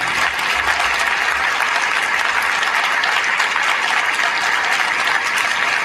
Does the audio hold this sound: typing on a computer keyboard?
no